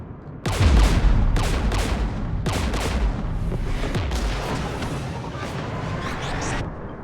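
Heavy gunfire in Mass Effect 3 during a firefight near Geth anti-aircraft guns: loud, dense bursts of shots and booming impacts that run continuously for several seconds with no talking.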